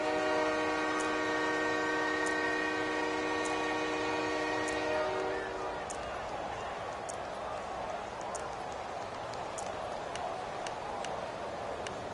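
A referee's whistle in a PS4 American football video game sounds as a steady, loud tone for about five seconds and then cuts off, leaving crowd noise and commentary talk underneath.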